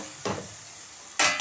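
A spatula stirs turmeric, asafoetida and red chili powder sizzling in hot oil in a pan, with two short, close scraping strokes over a faint, steady fry.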